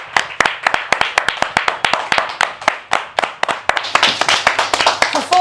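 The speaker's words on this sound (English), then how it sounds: "For far too long, that was an applause of just me." A single person claps steadily and loudly up close, sharp regular hand claps for several seconds at a results-night election event, with faint murmuring in the background.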